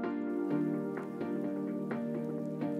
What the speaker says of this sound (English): I've added some rain